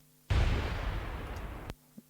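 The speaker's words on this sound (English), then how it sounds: "All these like explosion sounds" An explosion sound effect in a metal song demo mix: a sudden, booming, wide burst that rumbles and slowly decays for over a second before cutting off, followed by a small faint hit.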